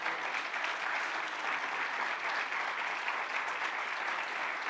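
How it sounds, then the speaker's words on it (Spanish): A church congregation applauds steadily in a dense, even wash of clapping that holds for the whole stretch, moderately loud with no voices standing out. "Alguien que le dé un aplauso al Señor y diga amén a eso."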